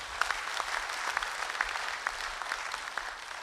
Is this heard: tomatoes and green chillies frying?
no